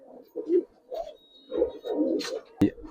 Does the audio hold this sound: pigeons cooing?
yes